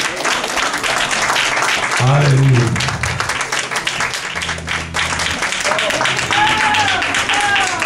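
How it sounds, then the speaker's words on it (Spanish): Church audience applauding children at a Christmas service, sustained dense clapping throughout with a voice speaking and calling out over it. "Un aplauso a los niños."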